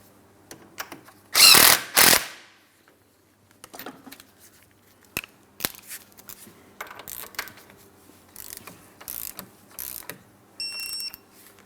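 A castle nut is tightened onto the outer tie rod stud of a 2004-2008 Pontiac Grand Prix, heard as close metallic ratcheting clicks and tool clatter in short separate bursts, two louder pulls near the start.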